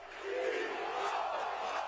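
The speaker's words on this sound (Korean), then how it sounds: "6만 관중이 함께하는 축구 경기장." Crowd of 60,000 spectators at a Brazilian professional football stadium, a dense steady roar of voices and chanting, loud and continuous.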